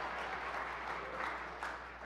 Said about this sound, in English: some claps over here